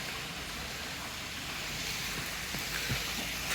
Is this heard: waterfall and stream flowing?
yes